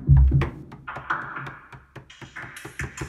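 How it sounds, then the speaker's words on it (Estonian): Small drum beat built entirely from body sounds such as pats and claps, played as a quick run of close, dry percussive hits in a loose rhythmic pattern, with a heavier thump near the start. "Ma tegin väiksed trummid siia, mis kõlavad selliselt."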